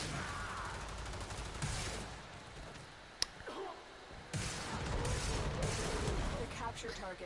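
Bursts of pistol gunfire in Warframe ring out over dense game noise, with rapid shots in clusters and one sharp crack near the middle, and a person talks through part of it.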